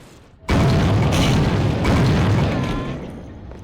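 A gun in the Dreamcast game Soldier of Fortune fires a heavy booming blast that erupts suddenly and rumbles on, loud and close, then slowly fades with a lingering roar.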